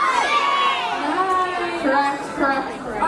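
Children at a temple's annual day event shout an answer together in a loud burst of mixed young voices, with cheering and crowd chatter swelling and fading over a few seconds.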